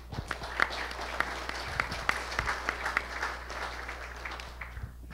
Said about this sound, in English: Big round of applause for Phil.